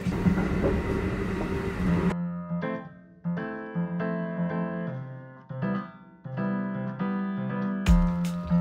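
Low rumbling hum of the Ishikari Liner semi-rapid train carriage riding from Sapporo to Otaru, followed by a melodic electronic chime playing over quieter background drone.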